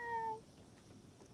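A kitty cat gives a single short, faint meow at the start, followed by quiet room tone and a brief sharp click at the end.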